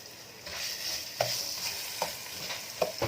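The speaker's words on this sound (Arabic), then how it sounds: "هناخد حته توم صغيره بسيطه كده مش كتير، وهنحط شويه كمون حطيناهم كلهم" Garlic and cumin sizzling in ghee in a pan for lentil soup: a steady close hiss of frying, broken by three or four scraping stirs at a slow, even pace.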